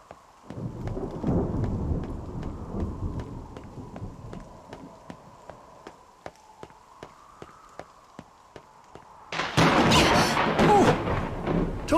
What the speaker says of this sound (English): We got thunder coming